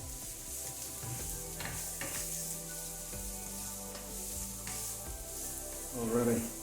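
Garlic and ginger sizzle in a little hot oil for chicken fried rice, a steady close crackle under occasional stirring scrapes that swell louder near the end.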